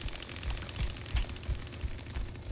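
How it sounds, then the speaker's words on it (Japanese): A chainsaw revs in The Texas Chain Saw Massacre game, a rough, pulsing engine drone with a rapid rattling chop, moderately quiet and steady across the short moment. "うわー、くそ、チェーンソー吹かしちゃった"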